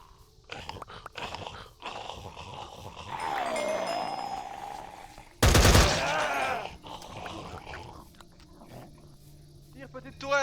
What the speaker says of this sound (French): Tire petite tourelle, vas-y, tue-les tous.